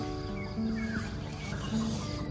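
Chickens cluck softly nearby in scattered bursts at a rural campsite in the morning, over faint outdoor background noise.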